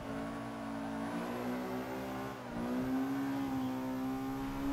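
Engine of a 1997 Honda Civic Type R in Forza 5 drones steadily under acceleration, dipping briefly at a gear change before climbing again, close and continuous with no speech.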